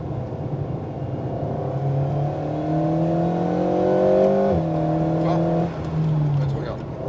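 An Alpine A110R driving on the Lohéac track: a steady, close engine drone rising slowly in pitch, then dropping sharply as it shifts or lifts off near the end, with a voice talking over it.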